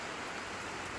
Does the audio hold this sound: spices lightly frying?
no